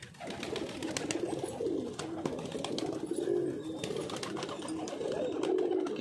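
A flock of pigeons coos continuously nearby, soft low murmuring calls overlapping with occasional wing flutters and small clicks.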